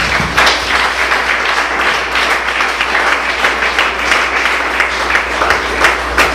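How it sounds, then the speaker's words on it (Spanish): A congregation in church claps loudly for God, a steady, dense round of applause filling the room with even intensity throughout, close and full, with a low hum underneath. "Dale un fuerte aplauso a Dios"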